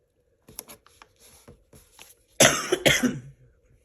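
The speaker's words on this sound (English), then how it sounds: "I apologize about that cough, y'all. It just will not go away." A quiet patter of small clicks and rustles leads into two loud, harsh coughs close to the mic.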